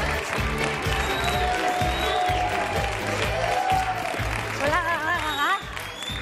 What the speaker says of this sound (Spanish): Un fuerte aplauso para Paula Prendes.